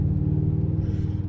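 Holden VU SS ute V8 engine idling or cruising, a steady deep low rumble with a faint pulsing beat, close and continuous, no voices.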